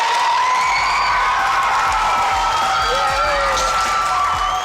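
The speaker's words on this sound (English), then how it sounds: "Give me a round of applause, guys" A school class bursts into applause and cheering, dense clapping with whoops and shouts, loud and continuous throughout.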